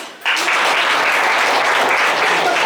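A classroom group breaks into sudden applause that stays dense and steady for a couple of seconds, close and fairly loud, with no speech over it.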